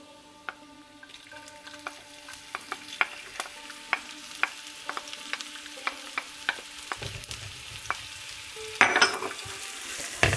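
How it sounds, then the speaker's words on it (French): Shallot, ginger, mango powder, chili and whole spices sautéing in a pan over medium-high heat for samosas: a faint steady sizzle with repeated sharp stirring clicks and scrapes, louder near the end. "On va faire revenir ça tranquillement, un peu moyen fort, pour faire un tout petit peu revenir les épices entières."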